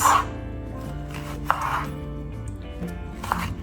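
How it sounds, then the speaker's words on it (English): A knife cuts a peeled kaddu in half and into slices on a board, making three crisp, close chopping strikes spaced about a second and a half apart, with light rubbing and scraping between them. "I'm going to cut the back and the front, cut it in half, slices,"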